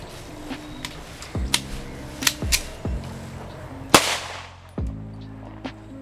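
Several sharp shots crack out one at a time with gaps between them from a Zigana pistol firing after being washed in a torture test, the blasts fairly loud and followed by brief ringing.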